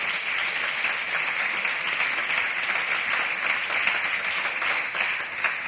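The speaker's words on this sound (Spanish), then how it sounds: "Den un aplauso fuerte a Dios por eso." Sustained, loud applause from a church congregation during a Spanish-language sermon, steady dense clapping that fills the whole stretch without letup.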